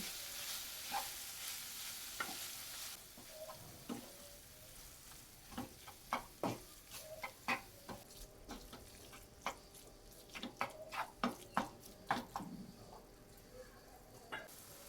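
Crumbled paneer bhurji stirred with coriander in a pan gives a quiet sizzle, with irregular spatula scrapes and taps that grow busier midway, close and soft.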